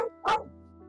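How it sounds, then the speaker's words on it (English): A pet dog gives one short, sharp bark indoors at moderate distance, and a faint whimper or low sound trails after it. "That's my dog."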